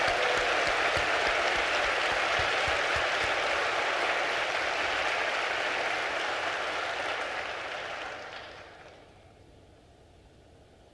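Sustained crowd applause at an Atlanta town hall honoring service members, a thick wall of clapping that holds steady and then fades out quickly near the end.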